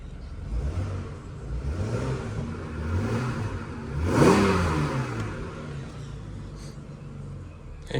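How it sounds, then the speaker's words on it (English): A Ford FG Falcon engine revs repeatedly, rising and falling in several swells, with one sharper, louder rev near the middle, fairly close and alone. "Engine sounds really healthy"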